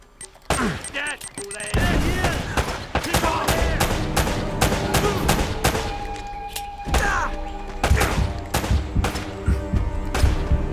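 Pistol shots ring out in the video game Uncharted: Drake's Fortune, a series of sharp cracks and thuds amid busy game sound effects and music.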